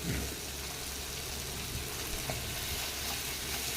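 Softened, cooked-down tomatoes are stirred in a pan over a steady, dense sizzle that continues evenly with no talking.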